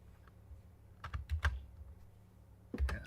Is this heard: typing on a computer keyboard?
yes